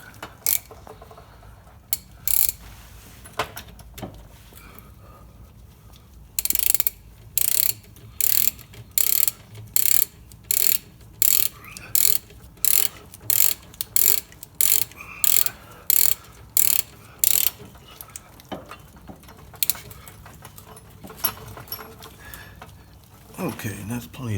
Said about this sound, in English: So now I'll go ahead and screw the bolt head back in the other side. Grab my 13mm socket.